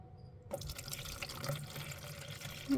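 Water poured into an animal enclosure, starting abruptly as a steady splashing, trickling stream that runs continuously and close by, with a faint drip near the end.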